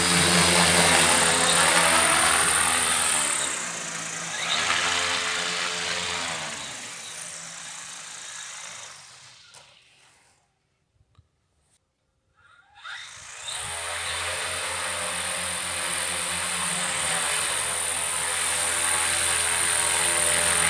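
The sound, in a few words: electric snowmobile driving off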